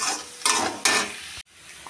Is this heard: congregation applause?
no